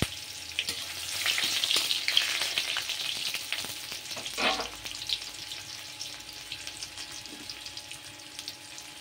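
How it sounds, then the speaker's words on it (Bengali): Chopped onion frying in a tempering of dried red chili, bay leaf and whole garam masala for a soya chunk and vegetable curry, a steady close sizzle that swells early then settles, with a few stirring scrapes. "শুকনো লঙ্কা, তেজপাতা ফোড়নে দিয়ে এবারে কেটে রাখা একটু পেঁয়াজ দিয়ে দিলাম ফোড়নে।"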